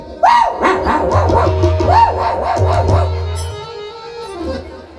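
A voice mimics a pack of dogs barking in a devotional kirtan setting, with several loud rhythmic bark-like yelps in quick succession, then a held tone over a low drone.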